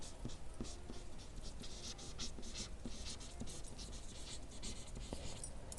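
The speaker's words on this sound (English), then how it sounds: "we're going to write the equations right down here" Equations are written by hand, producing a continuous soft scratching of pen strokes on a surface, faint and close, with no other sounds.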